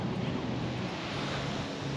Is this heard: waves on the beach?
yes